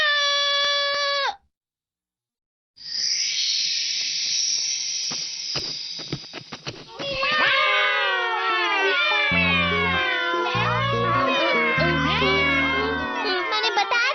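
A played recording of cats meowing, meant to call cats: a short mew, a pause, then a hissing, drawn-out cry followed by a rapid run of overlapping loud meows and wails with some low thumps, all close and without talk.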